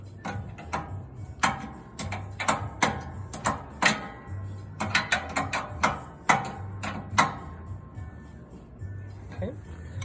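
A wrench tightening a jam nut on a ride-on mower deck while levelling it, a series of sharp metallic ratcheting clicks in irregular bursts, close by.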